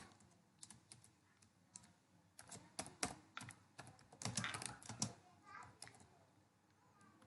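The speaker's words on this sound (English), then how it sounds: "Just typing." Irregular clatter of keys being typed on a computer keyboard, bursts of quick taps and pauses, close by, with soft voices in the background.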